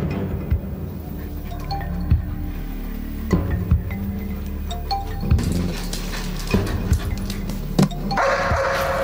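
A dog in a German TV crime drama barks in a series of short, moderately loud bursts, spaced irregularly over several seconds against a busy indoor background.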